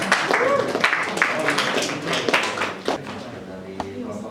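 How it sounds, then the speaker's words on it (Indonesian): A classroom applauds group 3 with a burst of mixed clapping, close and lively, and voices mingle with it. "Kita berikan tepuk tangan untuk kelompok 3."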